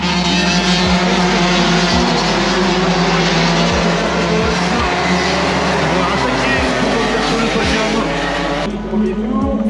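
Race cars roar past at a circuit, a loud constant engine drone broken by repeated whooshing passes, with someone talking over the noise throughout.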